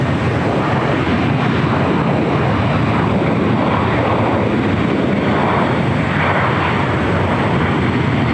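An airliner takes off at LAX, a broad, loud engine roar with rushing wind noise, sustained and steady throughout, close and powerful.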